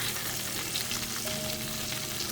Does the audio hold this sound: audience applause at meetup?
no